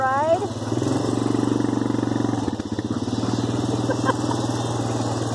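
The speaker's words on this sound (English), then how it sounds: "On the four-wheeler tonight." A four-wheeler ATV engine runs steadily close by with a low, even drone, and children's voices talk and call over it throughout.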